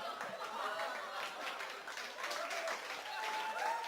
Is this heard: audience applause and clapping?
yes